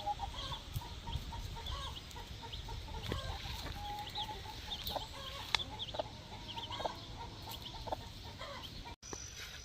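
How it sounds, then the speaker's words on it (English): A mother hen clucks softly and repeatedly among her young chicks, whose faint high peeps run throughout, with a rooster or other fowl sounding in the outdoor background at steady, moderate loudness. "I just love mama chicks with their babies"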